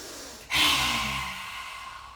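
Deep inhalation during a qigong breathing exercise, a single long breath drawn in sharply at first and then tapering off, close and alone with no talking.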